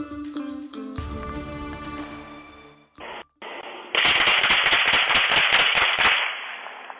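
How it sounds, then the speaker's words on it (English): Gunshots late at night in Reedsville caught on a doorbell camera: after a brief lull, a rapid volley of sharp loud cracks fires in quick succession for a couple of seconds, outdoors and somewhat distant, with no talking. "A doorbell camera in Reedsville capturing the moment gunshots break out late last night"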